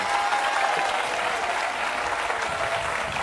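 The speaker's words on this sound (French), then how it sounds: "Nous applaudissons très fort Sophie." A TV studio audience on the French game show Qui veut gagner des millions applauds loudly and steadily for a contestant named Sophie, a dense, continuous wash of clapping with a faint tone running beneath.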